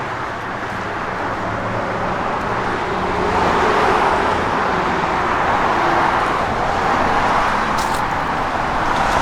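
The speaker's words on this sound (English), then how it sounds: "we just turn the key and it fires right up" A 1972 Dodge Demon V8 with a 727 TorqueFlite automatic runs steadily, giving a loud, dense rumble that swells slightly after a few seconds and holds without a break.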